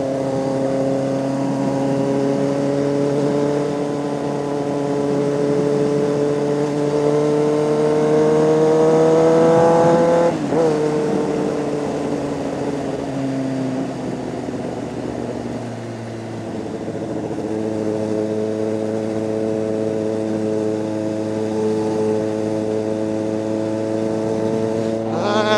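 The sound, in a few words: modified motorcycle revving loudly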